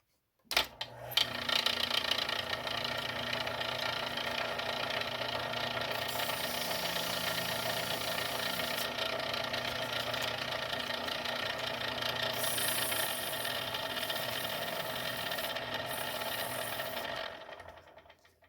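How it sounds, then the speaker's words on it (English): A bamboo fly rod ferrule station is turned down with 180 grit sandpaper on a spinning lathe, a steady motorized hum and hiss that starts abruptly, runs without talk and cuts off near the end. "I'm going to turn this ferrule station down with 180 grit"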